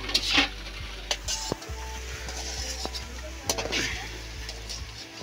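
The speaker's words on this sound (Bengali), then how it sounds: "আলুগুলো হালকা আঁচে দিয়ে আলুগুলো ভেজে নিলাম" Potatoes frying in a wok over low heat, a steady close sizzle broken by scraping stirs and sharp clicks of a spatula against the metal.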